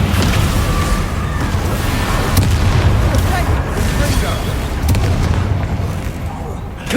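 A Descendo spell strikes in Hogwarts Legacy during a Hufflepuff playthrough's combat. It lands as a deep, booming impact inside a continuous roar of battle effects and rumbling low end, with sharper bursts and crackles breaking through at intervals.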